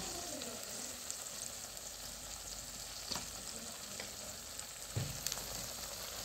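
Potatoes sizzle in hot oil in a pan for a chicken paneer curry, a soft, steady frying hiss with a few faint clicks and light stirring knocks, quiet and close, with no talking.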